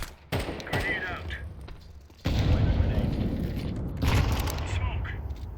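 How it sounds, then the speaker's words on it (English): A grenade goes off in a fast-paced shooter video game: a sharp boom followed by loud, rumbling blasts and gunfire-like bursts that swell twice, amid dense, noisy battle sound. "Grenade out."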